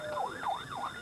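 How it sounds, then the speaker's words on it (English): Wailing sirens from a convoy escorting the returning team on an Air National Guard base in Cheyenne, 1996, rise and fall in about three smooth sweeps at moderate distance over a low background rumble. "There were sirens,"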